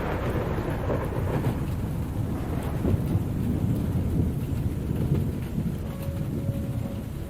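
Steady rain falls outside a camper with a deep, continuous thunder rumble, a dense, even wash of drops at moderate volume throughout and no voices.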